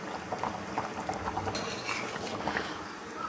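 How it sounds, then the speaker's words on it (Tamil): Potatoes boiling in a pot, soft bubbling and popping that stays steady and quiet at close range. "உருளைக்கிழங்கு நல்லா வெந்து வரட்டும்."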